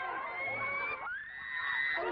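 A crowd screams in panic after gunfire, with high, sustained wailing voices that rise and overlap, loud and continuous, with some talk mixed in.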